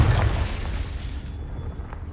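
A Confringo blasting spell goes off in Hogwarts Legacy, a deep booming burst up front that rolls into a fading rumble over about two seconds.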